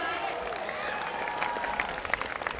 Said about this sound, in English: A big round of applause for Manet.